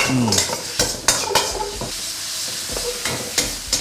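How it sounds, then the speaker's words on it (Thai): Stir-frying squid with yellow chili and long beans in a wok: a steady sizzle with repeated scraping and clanking of a spatula against the pan, close and fairly loud, no voices. "ผัดให้หอมนะครับ"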